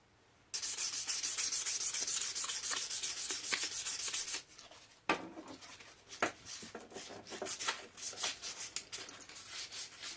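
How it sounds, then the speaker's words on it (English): Hand sanding on a part of a 1947 Scott 800B radio phono console: a loud, steady rasping rub that stops abruptly, then resumes as quicker, uneven back-and-forth strokes. "I'll see if I can't sand a little of that off."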